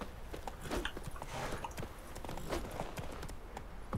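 Horse hooves clip-clopping in The Witcher 3 video game, a steady run of sharp, close hoof knocks on hard ground across the whole stretch, with no voice over them.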